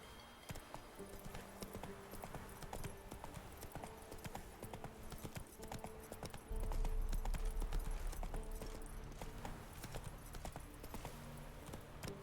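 Roach, the horse in The Witcher 3, gallops with steady rhythmic clip-clop hoofbeats that grow louder and heavier partway through, over a low game soundscape with no talking.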